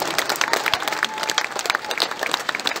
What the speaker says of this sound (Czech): pan primátor Petr Korč a Ondra Palán, ještě jednou velký potlesk.